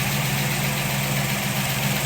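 A 1969 Z/28 with a DZ 302 V8 idles steadily and close by, a constant low engine drone with a light mechanical clatter from the valve lifters running through it.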